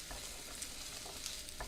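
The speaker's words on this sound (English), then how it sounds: "I'm going to turn this up so you can hear it sizzling" Onions sautéing in a pan: a quiet, continuous sizzle with scattered soft pops and crackles, close up, with no talking.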